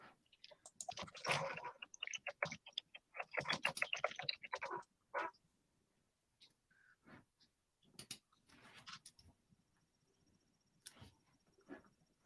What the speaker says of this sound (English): So I'm typing this